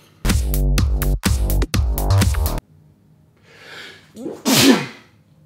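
A loud tonal passage stops abruptly, then after a quiet breathy inhale comes a single sharp, close sneeze.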